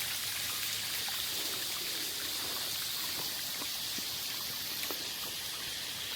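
A small creek runs steadily close by among slippery rocks, a continuous soft trickle and rush of water with no voices over it.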